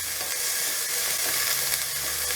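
Small-cut onions sautéing in a pan for mutton keema cabbage curry, a steady broadband sizzle with soft stirring scrapes, fairly close and continuous with no talk.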